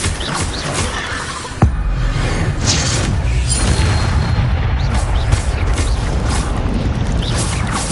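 A booming Incendio fire spell in Hogwarts Legacy, a sudden blast followed by a sustained roaring, crackling rush of flame during combat.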